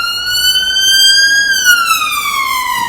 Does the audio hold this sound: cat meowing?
no